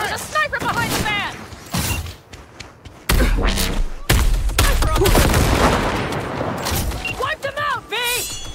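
Gunfire from a firefight in the Cyberpunk 2077 video game, loud bursts of shots and impacts mixed with mechanical clanks, under frequent shouted character dialogue.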